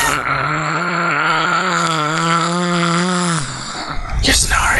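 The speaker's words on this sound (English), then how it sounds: "You're snoring again." A person snores in one long, loud, rasping groan-like breath that fades, followed by brief rustling and noise.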